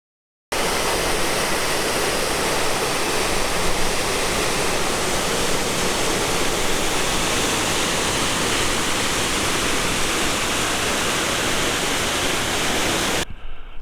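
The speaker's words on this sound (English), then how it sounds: "Here's a little different angle of that waterfall coming down from the Presidential Range." Waterfall in the Yoho Valley pouring down from the Presidential Range, heard as a loud, steady, broadband rush of falling water that fills the scene from start to finish with no other sounds.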